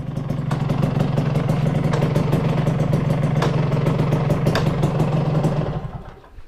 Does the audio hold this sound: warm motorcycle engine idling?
yes